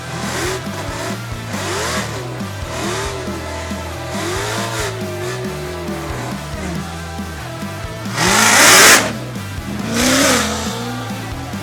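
A roughly thousand-horsepower Dodge SRT Hellcat makes a drag-strip pass with its tires spinning, the engine rising and falling through loud revving pulls before a sharp roaring burst near the end.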